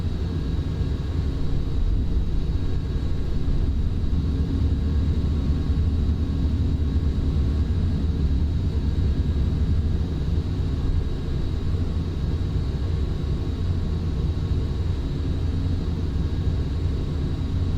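Airliner climbing after takeoff in Microsoft Flight Simulator X, a steady, dense engine roar and rumble that holds constant and loud throughout with no talking.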